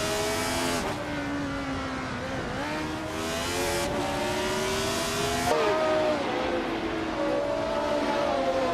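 A Matra MS 120B race car engine roars in a racing video game, revving and shifting through gears with rising and falling pitch, loud and continuous throughout.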